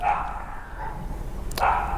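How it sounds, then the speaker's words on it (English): Dog barking and yelping somewhere down a path by old stables on an estate, distant and steady, with a brief sharper yelp near the end. "it sounds like someone's being attacked by a dog"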